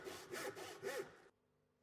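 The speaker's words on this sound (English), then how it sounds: "Using a tenon saw, begin to cut along the waste edge of the gauge lines on 2 faces of the timber." A tenon saw cuts along gauge lines in timber held for a joint, giving four close, rhythmic rasping strokes over about a second, then stopping abruptly into quiet.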